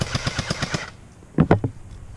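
Airsoft guns firing BBs during an outdoor skirmish, a fast burst of about eight snappy shots in a steady rhythm, then a short pause and a tighter cluster of two or three louder cracks.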